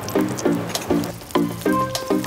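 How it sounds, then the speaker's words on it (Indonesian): Shallots, red chilies, bird's eye chilies and tomatoes for sambal terasi frying in hot oil, a continuous sizzle broken by repeated scraping stirs in an even rhythm, close and clear with no talking. "Sambil menunggu bumbu meresap, Radit langsung menggoreng bahan sambal terasinya."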